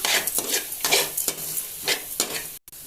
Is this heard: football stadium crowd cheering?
no